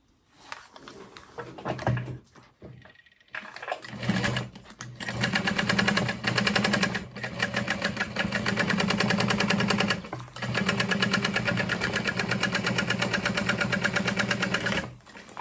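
A sewing machine stitches a tote bag in long steady bursts with a brief pause early on, its rapid mechanical whirr loud and close, with no talk over it.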